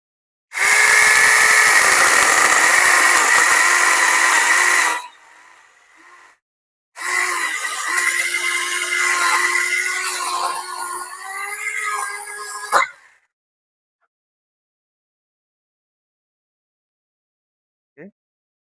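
A small battery-powered chainsaw cuts through the trunk of a young guava tree: a loud, steady buzzing whine for about four seconds, a brief pause, then a second labored cutting run that wavers in pitch before stopping, followed by silence.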